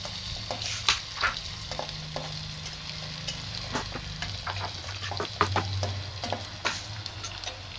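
Onions frying in oil for South Indian tomato rice, sizzling steadily while a utensil stirs and scrapes the pan in irregular clinks, close and alone.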